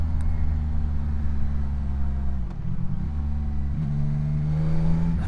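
A CFMOTO 675 SR-R motorcycle engine hums steadily and close while riding, with a brief dip in the middle before the throttle picks back up into a rising, smooth drone.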